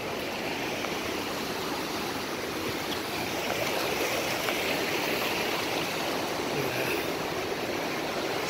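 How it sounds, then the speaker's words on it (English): River water flows steadily where two rivers meet in the Smoky Mountains, a continuous moderate rushing and gurgling of a stream heard close, with no talking. "Look at the two rivers meet right here."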